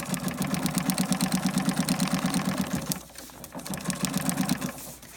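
A sewing machine stitching a 1/4 inch seam on foundation paper pieced fabric, a loud, fast, even mechanical chatter that pauses briefly, then resumes.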